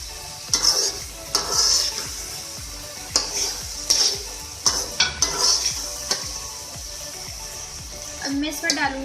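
Potatoes and mustard greens stirred in a cooking pan, a spoon repeatedly scraping and knocking against the metal over a soft sizzle in an irregular rhythm.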